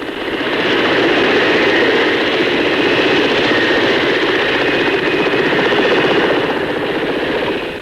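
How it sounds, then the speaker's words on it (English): Westland helicopters fly past in a cavalcade led by the Westminster Flying Crane at the 1958 Farnborough air show, a loud, steady roar of rotors and engines that holds evenly throughout. "Led by the Westminster Flying Crane, here's Westland's helicopter cavalcade."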